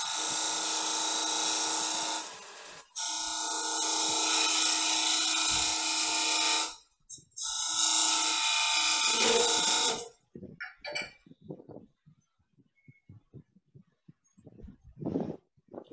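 Metal scraper cutting on a spinning wood lathe, a loud steady rasping whine in long passes broken by short pauses, then fading into scattered faint scrapes and knocks.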